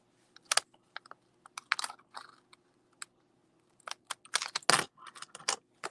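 Packing tape being snipped at a papercraft table, with a scatter of short, sharp cuts and crinkles close by, separated by quiet gaps.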